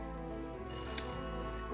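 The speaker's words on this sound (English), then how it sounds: "Electric fire alarm." An electric fire alarm bell from the Victorian era rings continuously with a steady metallic tone, fairly loud and alone, with no talking.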